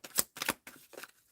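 A deck of cards riffles through four quick shuffles in close succession, crisp and near, with no talking.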